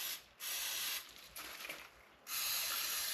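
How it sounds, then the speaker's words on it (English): Anti-spatter spray hissing from an aerosol can onto welding parts in a workshop, in several close bursts separated by short pauses. "Just going to show how I spray the anti-splatter stuff on everything."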